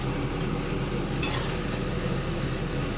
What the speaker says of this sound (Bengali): এবার আমি চাপাটা খুলছি।